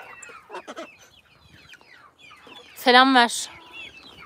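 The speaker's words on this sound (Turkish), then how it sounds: "Bu bizim ilk çıkan civcivimiz kuluçka makinesinden." Young chicken hatched from an incubator, with soft clucks and chirps across the scene and one loud squawking call near the middle, while someone talks.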